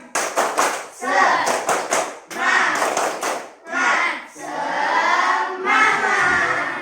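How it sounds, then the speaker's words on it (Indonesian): Children in a classroom do a rhythmic group clapping chant, quick bursts of claps alternating with loud shouted chanting from many young voices, repeating in short phrases. "Tepuk semangat."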